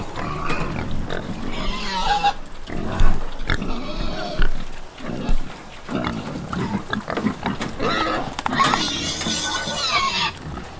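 Aggressive pigs squeal and grunt loudly at a farm feeder, a continuous chorus of shrill, overlapping squeals that rises and falls throughout.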